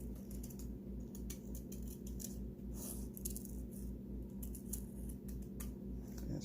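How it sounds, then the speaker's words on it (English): Scissors snip through paper while paper eyeballs are cut out, faint crisp clicks and snips coming in quick irregular succession over a steady low hum, with no talking. "I'm just going to cut them out real quick"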